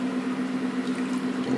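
Water is poured onto a rag for cleaning a washable projector screen, a steady close trickling splash over a constant low electrical hum.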